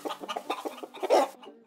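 Chickens cluck in a quick run of short, close, distinct calls, a brief rhythmic series ending in a louder burst.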